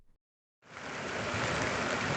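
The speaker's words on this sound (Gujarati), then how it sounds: "અત્યારે હાલ આ નદીમાં પાણીનો પૂર વહી રહ્યો છે" The flooded Keri river at Nasitpar village in Vallabhipur rushes past in a dense, continuous roar that swells in after a brief moment of near silence.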